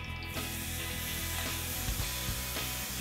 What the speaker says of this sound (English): What you want to hear when you throw this in the pan is that nice, strong sizzle, searing sound